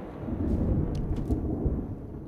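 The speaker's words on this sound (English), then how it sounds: "Bring on the thunder." Thunder in a horror film rolls as a low, heavy rumble that holds steady for the whole moment, with faint higher rustles above it and no voices.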